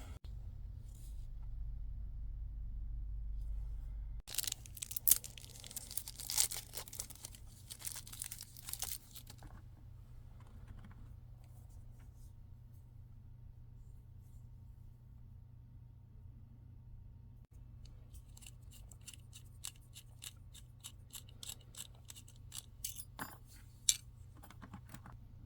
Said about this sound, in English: I'm going to exchange the wire clip for the deep carry pocket clip that Giant Mouse now offers.